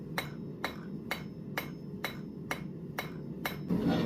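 Hammer blows forging a hot round steel bar into a square and then a hexagon, eight sharp, evenly spaced strikes about half a second apart, ringing clearly over a low background hum.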